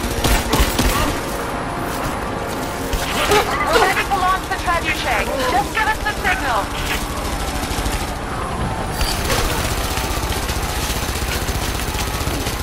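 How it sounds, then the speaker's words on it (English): Sustained gunfire in Rise of the Tomb Raider on Xbox One, dense rapid bursts running under a voice throughout, with the shots blending into a constant busy wash of combat noise. "Stop firing at me"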